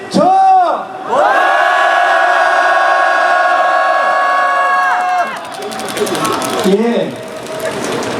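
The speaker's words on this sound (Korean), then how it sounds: "우리 함성 한번 질러보도록 하겠습니다" A crowd at a protest rally in Incheon lets out a loud, sustained shout together, holding it for several seconds before it breaks off into scattered cheering and voices.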